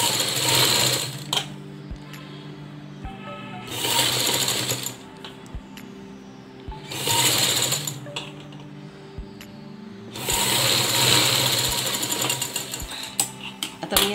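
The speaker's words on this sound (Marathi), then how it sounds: "आता मी याला डबल शिलाई मारून घेते" A sewing machine runs in bursts while stitching a baby garment sleeve, a loud close whirring hum that starts and stops several times with short quieter gaps between runs and no talking.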